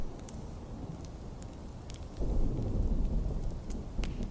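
A thunderstorm rages outside, a steady rush of heavy rain with a deep rumble of thunder swelling midway and rolling on, dull and muffled as if heard from indoors.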